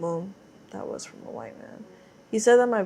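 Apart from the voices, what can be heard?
No everyday noises stand out.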